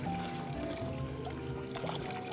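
Tap water pours steadily from a faucet in Switzerland, a continuous close splashing stream with a faint hum underneath.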